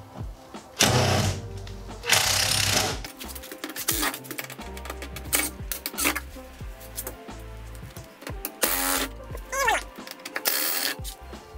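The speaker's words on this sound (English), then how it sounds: "So to do that, I'm just gonna come in with my impact driver." An impact driver backs screws out of window trim on a school bus conversion, giving several short, loud, rattling bursts with talking in between.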